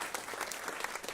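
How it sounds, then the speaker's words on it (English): Sustained audience applause at a regenerative agriculture celebration event, a dense, even wash of many hands clapping together, fairly faint and distant, with no talk over it. "Give him a round of applause."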